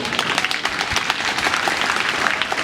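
A congregation of holiday makers claps together in a short, lively burst of applause, dense overlapping hand claps at close range with no talking over them.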